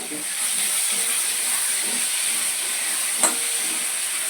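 A steady hiss of potatoes frying in a pan fills the clip, loud and continuous, with one brief clink of a utensil partway through.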